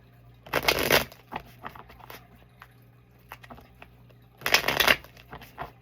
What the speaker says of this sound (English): This deck shuffle is really good, I'm not gonna lie.